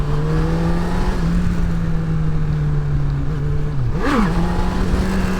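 Honda CB1000R motorcycle engine holding a steady drone in second gear, with a brief dip and quick rise in pitch near the end as the throttle cuts and returns.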